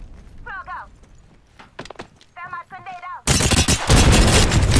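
A grenade blast and heavy gunfire erupt in a first-person shooter, the loud sustained rattle of shots arriving after a player's voice and brief game tones.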